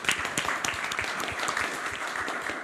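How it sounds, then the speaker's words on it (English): A roundtable audience on mobility in smart cities gives steady applause, many hands clapping together at a moderate, even level that fills the room throughout. "Let's give him a round of applause."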